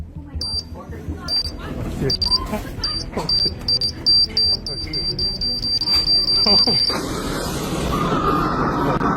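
A bomb detonation countdown sound effect repeats a string of loud, high electronic beeps at a steady rhythm for several seconds, mixed with background noise and then giving way to a broad rushing roar.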